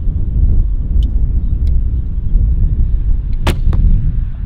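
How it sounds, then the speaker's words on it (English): A recurve bow is shot outdoors: a single sharp, loud snap and thwack rises above a heavy, rumbling wind-like background, with fainter clicks before it. "that's perfect shot right there"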